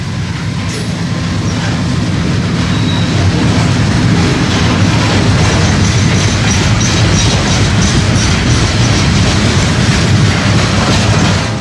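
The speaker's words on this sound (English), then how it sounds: "Here is TO-87, loaded coal for TECO's Big Bend Power Plant in Tampa." A loaded CSX coal train rolls past close by, a loud continuous rumble of heavy hopper cars with steady wheel clatter and occasional faint squeal, sustained throughout.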